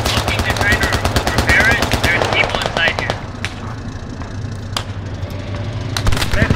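Machine gun fire in the video game Squad comes in rapid close bursts during the first few seconds, then isolated shots ring out over a low engine-like rumble, with faint voices underneath.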